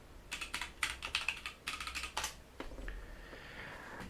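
Quick clattering keystrokes on a computer keyboard come in uneven bursts, then slow to a few scattered taps, soft and close with a short pause between runs.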